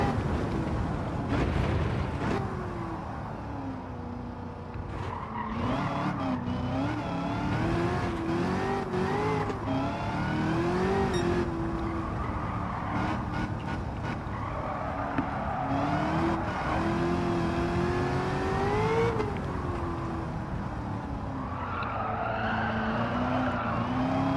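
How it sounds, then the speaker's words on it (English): A 1978 Pontiac Firebird with a swapped engine in Gran Turismo 7 does third-gear burnouts, its engine revving loudly with rising and falling pitch over continuous tire screech, close and sustained with no talking. "Doing burnouts in third gear."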